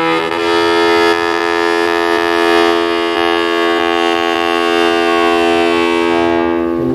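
The KMP BRR ro-ro ferry sounds its horn at Ulee Lheue port in Banda Aceh, one long loud steady blast that holds unbroken for about seven seconds.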